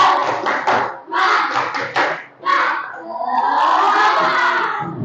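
Schoolchildren in a classroom perform the 'tepuk semangat' clapping chant: sharp rhythmic bursts of group claps in set patterns, close and loud, ending with the class chanting together.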